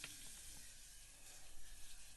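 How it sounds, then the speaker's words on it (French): Butter melts in a heated saucepan for butterbeer, giving a soft, faint, steady sizzle with light crackles and no voices. "On va verser d'abord le beurre."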